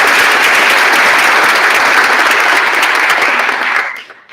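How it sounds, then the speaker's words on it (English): Audience applause for the teams at a national schools debating grand final, a dense, loud, steady wash of clapping that continues for about four seconds and then quickly fades out. "Another round of applause for them."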